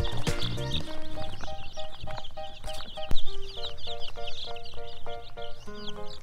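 Chicks in a brooder, layer-type and meat-type birds, peep and chirp in a busy overlapping chorus throughout, close and fairly loud, with background music and a faint thump midway.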